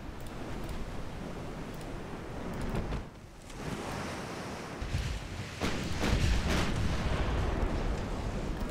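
A torpedo strikes a warship in a naval video game, giving heavy booming rumbles and dense crashing noise with a brief dip before a louder, deeper surge, all under a constant roar of sea and battle.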